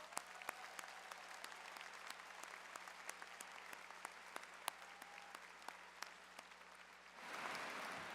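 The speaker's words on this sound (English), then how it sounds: "Let's give them a round of applause, please." Steady applause from a large audience at a spring commencement ceremony, sustained for several seconds with scattered sharper claps, then swelling into a louder, denser burst near the end.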